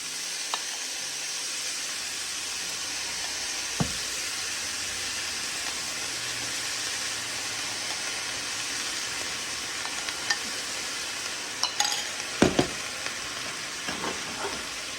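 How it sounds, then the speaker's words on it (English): Vegetables sauteing in a pan with green onion and sauce, a steady soft sizzle running throughout with occasional stirring clicks and scrapes, fairly quiet and without talk. "These have been sauteing for about 6 minutes."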